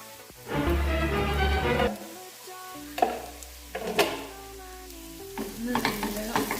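Prawns for ghee roast stir-fried in a pan, first a burst of loud sizzling, then quieter frying broken by several clattering scrapes and knocks of a spoon against the pan, up close.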